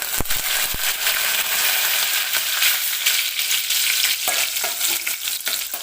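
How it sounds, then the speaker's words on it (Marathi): Garlic and curry leaves fry in hot oil with a dense, continuous sizzle and a few sharp crackles and pops, loud and close throughout. "हलकासा गोल्डन होईपर्यंत आपल्याला लसूण तेलामध्ये भाजून घ्यायचं आहे"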